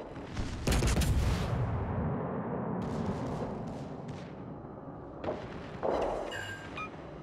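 Repeated naval gunfire from secondary armament in a warship video game, a dense rumbling volley with heavy booms near the start and again toward the end, sustained and loud.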